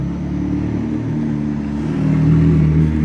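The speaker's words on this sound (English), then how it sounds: "the echoes of the car on this" A car engine echoes off the houses of a suburban cul-de-sac: a steady low drone that swells slightly near the end, close and fairly loud, with no talking.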